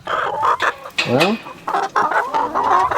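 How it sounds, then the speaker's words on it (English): Newly added hens cluck and squawk close by inside a chicken coop on a desert farm, a busy overlapping flock chorus with one rising squawk, while a person briefly speaks. "we got a whole lot of the new hens all up in here"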